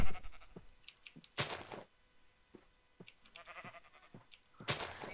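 Several Minecraft sheep bleats come in short bursts separated by quiet gaps, fairly close and clear.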